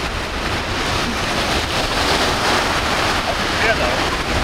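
Ocean waves wash steadily onto a beach in the Ebro Delta in Spain, a continuous close roar of surf mixed with wind buffeting the microphone.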